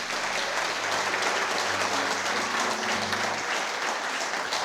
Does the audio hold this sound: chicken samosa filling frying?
no